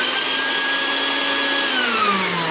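A shop vacuum runs steadily at close range while held against a frozen refrigerator water dispenser, a loud continuous whine whose pitch sags slightly toward the end, with no talking.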